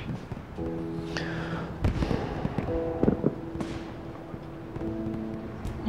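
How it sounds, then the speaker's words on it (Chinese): Fireworks and firecrackers bursting outside late at night on New Year's Eve, a string of booming thuds and crackling pops at middle distance, some with whistling trails, under a low steady tone. "外面放烟花爆竹的人"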